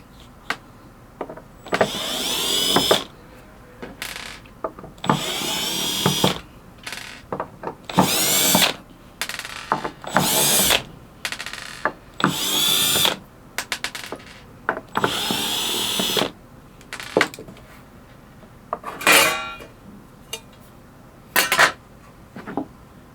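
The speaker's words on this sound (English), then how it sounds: "Let's grab my drill here and then let's open this sucker up." A handheld power drill whirs in repeated short bursts while backing screws out of a DS18 G8400.4D four-channel Class D car audio amplifier, each whine starting and stopping abruptly with brief pauses and light clicks in between, close and loud.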